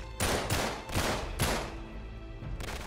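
Gunfire in the video game Uncharted 3 comes as three or four heavy bursts about half a second apart, loud and close, then a lighter rattle trailing off.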